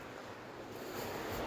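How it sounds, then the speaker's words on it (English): Water rushing hard through a bed of collected rocks along a river, giving a steady waterfall-like roar, close and continuous with broadband hiss and no voices. "it's like where all rocks are collected and the water goes hard through those rocks"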